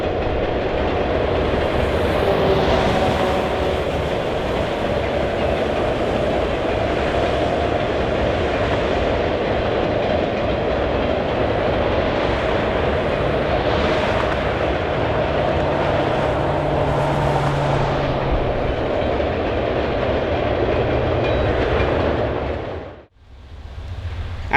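An LS&I iron ore freight train of empty cars passing over the Morgan Creek Bridge in Michigan, a long steady roar of rolling wheels and rail clatter, close and loud throughout before cutting off abruptly near the end.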